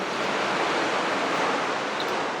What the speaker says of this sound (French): Et on retrouve le bruit assourdissant du ruisseau.